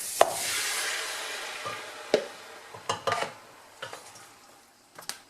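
Shallots sweat in olive oil in a pan for a tomato concassé, giving a soft, steady sizzle broken by a few scattered clinks and scrapes of stirring, with no talk.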